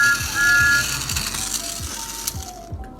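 Tomy Thomas and Friends toy train engine fitted with new traction tires, running with a soft mechanical whir and regular clicking rattles as it rolls along track, faint and close.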